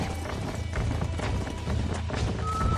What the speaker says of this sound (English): There's the horses! Get that lasso ready! Rope one!